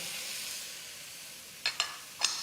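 Game meat being stirred with flour in a very hot pan gives a soft, steady sizzle, with three brief scraping clicks of the spoon near the end, close and fairly quiet.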